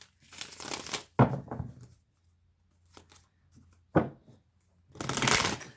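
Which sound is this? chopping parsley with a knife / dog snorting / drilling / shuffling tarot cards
shuffling tarot cards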